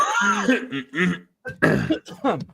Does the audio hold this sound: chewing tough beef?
no